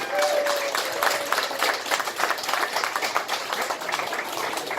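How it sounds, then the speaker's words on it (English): A crowd at the opening of a LEGO certified store in a Sandton City shopping mall breaks into lively applause, dense overlapping claps that rise and fall in waves at a fairly loud level. "So let's extend a round of applause to the both of them and their team."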